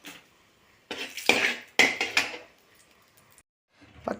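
Roasted ingredients for idli podi scraped and tipped from a pan into another metal vessel, giving a few clattering bursts of metal-on-metal with quiet gaps between them.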